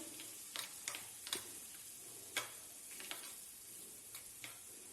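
Cumin and crushed ginger sizzle in hot ghee for dal tadka, a soft steady frying hiss with several sharp clicks and taps from stirring, close and fairly quiet.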